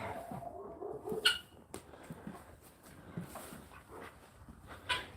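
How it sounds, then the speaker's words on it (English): A farm dog at night giving a few scattered barks and whimpers, moderately distant and fairly soft, with quiet gaps and faint rustling between the calls. "You don't need to bark. You're gonna bark anyways"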